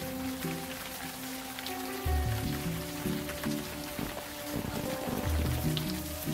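Steady rain pattering on surfaces in the video game Unavowed, a constant soft hiss with scattered drops, while a low hum and muffled tones move underneath.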